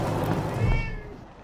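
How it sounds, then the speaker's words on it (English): Cat meowing in Wasteland 3, a single close, drawn-out meow that rises and then trails off over faint game background sound. "there's actually a cat"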